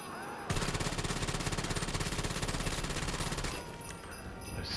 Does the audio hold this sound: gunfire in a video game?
yes